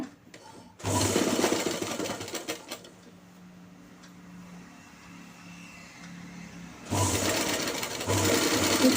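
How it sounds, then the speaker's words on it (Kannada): Sewing machine stitching the side seam of trousers, two loud bursts of fast rattling motor-driven stitching separated by a quieter pause with a low hum. "ಬದಿಗೆ ಸ್ಟಿಚ್ ಹಾಕಿದ್ದಾಯಿತು."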